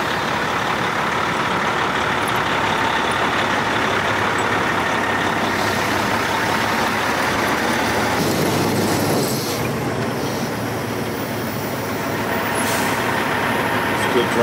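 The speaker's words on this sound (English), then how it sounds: "Trying to drag the trailer through the snowbank." A lowboy truck strains to drag its trailer through a snowbank, giving a continuous heavy diesel drone with a shift in load partway through and a brief hiss near the end, with a voice speaking over it.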